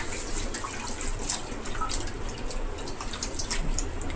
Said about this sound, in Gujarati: જો આ રીતના બધા પાન ધોઈ લેશું